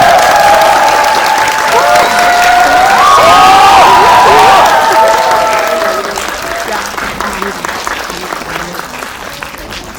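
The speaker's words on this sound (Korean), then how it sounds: "들어오시면 큰 박수 부탁드리겠습니다" Loud sustained applause from a large crowd at a film audience talk event, with scattered cheers and whoops, swelling midway and then tapering off toward the end.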